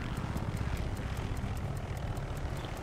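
A helicopter flies in a video game, its rotor beating in a fast regular chop over a steady engine drone, moderately loud and constant with no talk.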